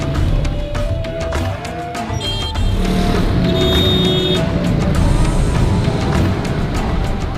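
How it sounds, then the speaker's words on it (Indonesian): Dense traffic in a crowded Lahore alley, a continuous loud rumble of engines with passing vehicles, scattered horn toots and clatter close by, with no talk. "Dan di tengah-tengah ada lalu lintas yang luar biasa padatnya."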